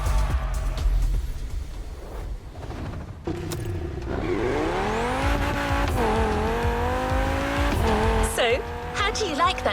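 A modded BMW engine revs hard in The Crew Motorfest, its rising, sweeping pitch climbing and falling through gear changes, with brief tire squeal near the end, loud and close throughout.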